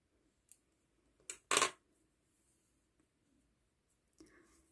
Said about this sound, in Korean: 끝에 남은 실은 잘라줍니다